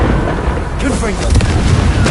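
Confringo spell blasts in Hogwarts Legacy: a loud, short booming explosion with crackling debris, heavy and close, over a busy combat background.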